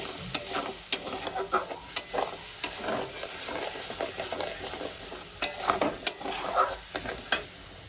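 Pureed tomato sautéing in a pan over low-to-medium gas flame for a vegetarian potato, cauliflower, pea and paneer curry, a steady soft sizzle broken by repeated sharp scrapes and clanks of a stirring spoon.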